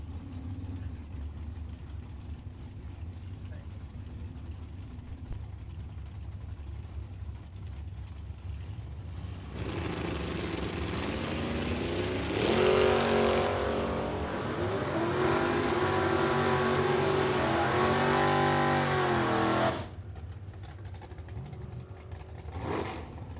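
At a drag strip, a 1963 Nova with a 523 cubic inch engine and a 1971 Vega idle, then launch in a loud surge of revving engines that climbs through gear changes and cuts off after about ten seconds.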